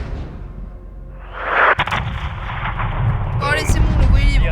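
In the Call of Duty MW2 campaign, an artillery cannon fires one booming shot with a whooshing tail, then battle rumble continues. Radio voices talk over the scene.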